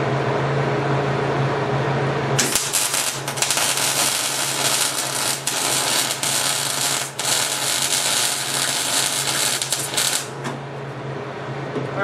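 An old Miller 35 welder welds on a Harbor Freight tire machine, giving a steady, loud crackling buzz for about eight seconds over a constant shop hum.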